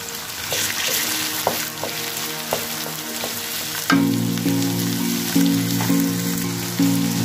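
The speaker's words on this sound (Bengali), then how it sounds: "দিয়ে দিলাম পেঁয়াজ।" Onions sizzle in hot oil for khichuri, a steady crackling fry with scattered stirring clinks and knocks, growing louder and denser partway through, with no talking.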